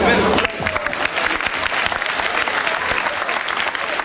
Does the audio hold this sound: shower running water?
no